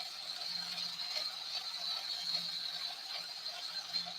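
A lathe being set up gives off a soft, repeating mechanical ticking and ratcheting, fairly quiet and close, with a steady high hiss behind it and no talking.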